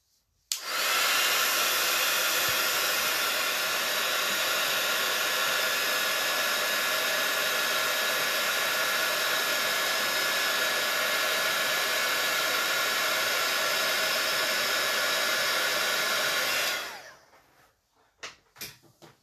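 A heat gun warms powder on a Ferrero place-card craft piece, a loud, steady broadband hot-air roar running continuously for about sixteen seconds before cutting off, followed by a few faint handling knocks.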